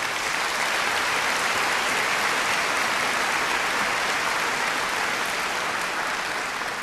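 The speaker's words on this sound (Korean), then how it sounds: "나오실 때 박수로 크게 환영하십시다." A large congregation at an evening mission conference service applauds to welcome the preacher, a loud, continuous roar of clapping that holds steady throughout.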